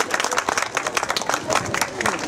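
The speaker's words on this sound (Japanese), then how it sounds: "皆様大きな拍手をお願いします" An audience claps at a festival in an elderly care home as a group's stage set begins. The clapping is dense and close, with voices mixed in.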